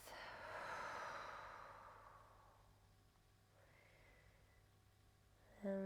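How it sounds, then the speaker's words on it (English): A slow, soft breath drawn in and released during a quiet guided meditation before a gentle flow yoga session, faint and close, with quiet stillness after. "Take a breath."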